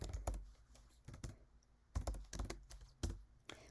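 Short bursts of close computer keyboard typing, clattering keystrokes in quick clusters separated by brief gaps, while entering spreadsheet variables.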